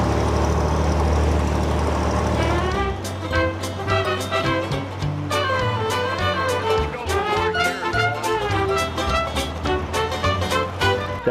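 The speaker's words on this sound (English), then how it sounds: "I'm driving a tractor." A 1963 tractor engine rumbles steadily nearby, with a low idling chug and mechanical rattles throughout, shifting in tone after a few seconds.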